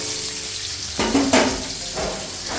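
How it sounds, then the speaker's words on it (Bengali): Garlic, two green chillies and a few onion pieces fry in a wok with a steady broadband sizzle, swelling as ingredients drop in around the one-second mark and again near the middle and end. "তো এখানে ওই জন্য রসুন, 2টো লঙ্কা দিয়ে দেবো, আর অল্প কটা পেঁয়াজ দেবো, ব্যাস দিয়ে এগুলো একটু ভেজে নেব।"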